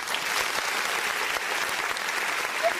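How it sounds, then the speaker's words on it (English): Steady applause from an audience on a sports talk show, a dense even wash of many hands clapping that holds at a constant level throughout with no speech over it. "Can we get a hand clap one more time?"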